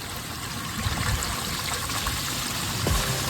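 Water rushes steadily out of an RV shower holding tank in a continuous hard, fast stream, close and fairly loud throughout.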